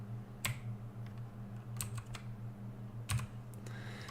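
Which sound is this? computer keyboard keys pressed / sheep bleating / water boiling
computer keyboard keys pressed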